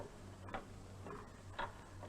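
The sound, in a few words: ticking of electric master clock mechanism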